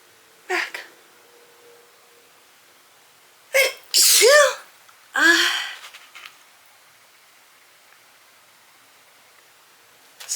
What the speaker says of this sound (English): I feel like I'm gonna sneeze again.